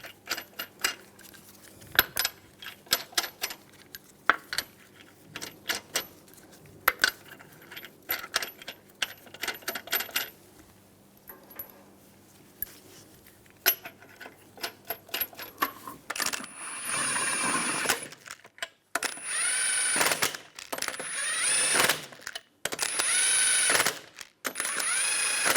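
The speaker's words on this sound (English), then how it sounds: "Put the wheel on. Get the lug nuts on." Lug nuts on a 2004-2009 Toyota Prius front wheel are threaded on and tightened, giving scattered metallic clicks and clinks, then louder bursts of ratcheting and rattling toward the end, with no talk.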